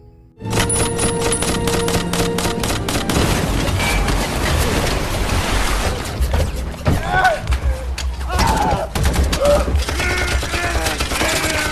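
Rapid bursts of a ship-mounted machine gun firing in a war film battle scene, loud and close, rattling continuously amid booms and chaotic noise, with shouting voices in the latter half.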